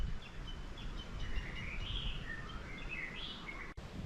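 Birds chirp and whistle in a Kauai forest of tall trees, several thin, bright calls overlapping at moderate distance over a soft, steady background hiss.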